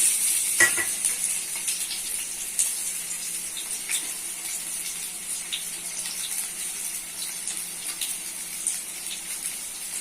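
Potatoes added to boiled chickpeas in a hot pan give a steady, close sizzle. A brief splash-like burst comes near the start, and the bubbling continues alone throughout.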